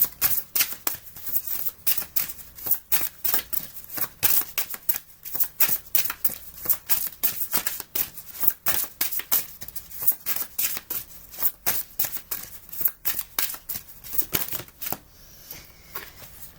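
Tarot cards being shuffled by hand, a long run of crisp riffling bursts and snaps in a steady, uneven rhythm, close-up and bright, with no voices over it.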